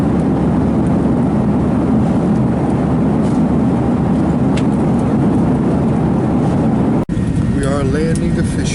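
Loud, steady roar of an airplane cabin as the aircraft lands on a trip to San Diego, a dense engine and air rush with voices faintly underneath, cut off abruptly near the end.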